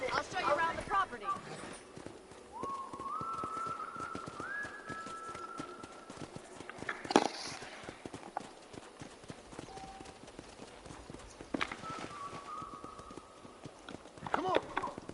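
Horse hooves clip-clop steadily in the Red Dead Redemption video game, a soft repeated trotting rhythm under voices talking, with occasional music tones.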